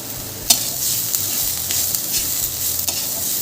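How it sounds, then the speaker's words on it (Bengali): Onion, ginger and garlic sizzle steadily in a small amount of oil in a pan, with occasional sharp scrapes and taps of a stirring spoon. "এবার পেঁয়াজ আদা রসুন সব কিছু একসাথে একটু সময় ধরে ভাজা ভাজা করে নেব"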